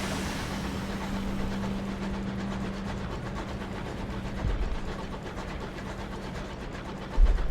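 A video game train locomotive runs with a steady, low engine drone and a faint rolling rattle, a heavier thump near the end, with no voices.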